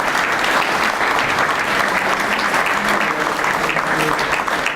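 A crowd at a departmental and regional awards ceremony in Montpellier gives steady, dense applause, loud and continuous throughout with no talk over it.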